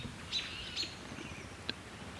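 A few short, faint calls of a varied thrush ring out over a quiet outdoor hiss, spaced apart, with one sharper note near the end.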